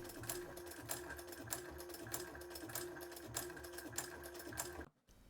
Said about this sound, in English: I recently got myself an old sewing machine, so I use it to do this job for me.